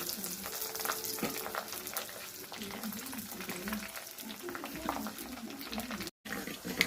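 Mustard seeds, fenugreek and curry leaves frying in hot oil in a pan while being stirred, a close, continuous sizzle with scraping strokes and a voice speaking over it.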